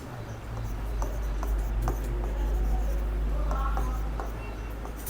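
A pen scratches and taps across paper while a geometry proof of the Pythagorean theorem is written out by hand, soft and close, with a steady low hum underneath and someone talking at times.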